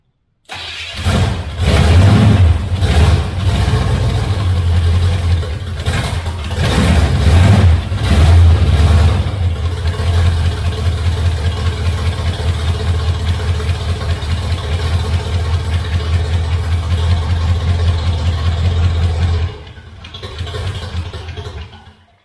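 A 1983 Hurst/Olds V8 cranks and fires, settling into a loud, steady idle close by for most of the clip before dropping off near the end, with cranking bursts at the start and no talking.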